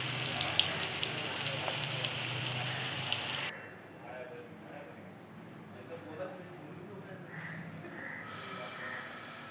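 Colocasia leaf vadi deep frying in oil, a dense crackling sizzle for a few seconds that then cuts to a much quieter background with faint bubbling and soft clinks.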